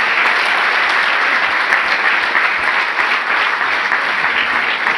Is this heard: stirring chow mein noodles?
no